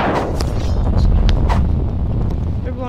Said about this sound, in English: They're blowing up spawns, aren't they?